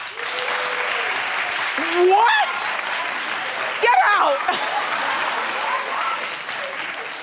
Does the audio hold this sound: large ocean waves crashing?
no